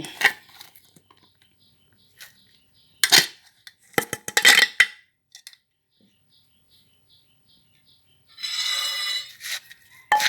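A utensil mixes spicy shredded green mango salad with fermented fish sauce (pla ra) and chili powder in a bowl, giving scattered light clinks and taps, then a short burst of scraping near the end.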